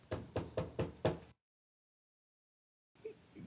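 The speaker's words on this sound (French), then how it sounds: "Elle frappa à la porte." Five quick knocks on the wooden door of a grandmother's small house, close and crisp in an even rhythm, followed by a long silence and then a brief low sound.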